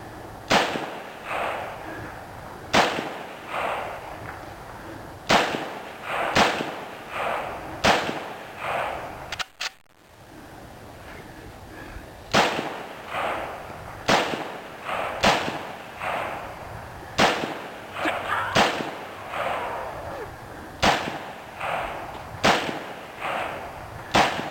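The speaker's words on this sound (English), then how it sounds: "First time shooting a gun out of the box." An I.O. Inc AK-47c rifle firing at 50 yards, sharp loud single shots at uneven intervals with brief echoing decay between them, a short pause midway, then a steadier series of shots.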